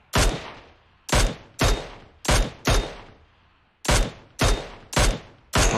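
Gunfire in PUBG Mobile played on an Asus ROG Phone 5S: eight loud, sharp single shots in an uneven rhythm, each with a short decaying tail, with a brief pause in the middle and no talking.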